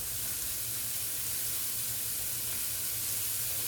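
A steady, airy hiss of non-stick cooking spray sprayed into a pan holds evenly for a few seconds, close and fairly quiet, with no voices.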